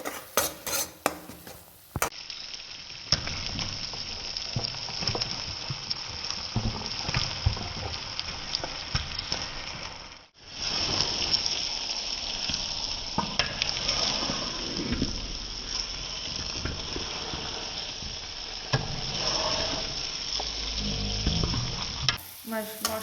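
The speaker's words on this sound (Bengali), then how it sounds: "মশলার মধ্যে মাটনটা দিয়ে দিয়েছি, এবার আমি মাটনটাকে ভালো করে মশলাটার সাথে কষাবো" Mutton sautés in a thick spice masala with oil in a pan for a potato mutton curry, sizzling loudly and steadily while a utensil stirs and scrapes against the pan. The sound dips briefly midway, then the sizzle returns.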